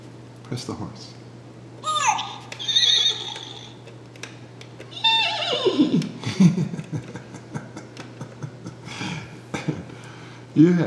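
Electronic toy horse whinny, a descending synthetic neigh played twice at close range, with a small child babbling and an adult voice around it.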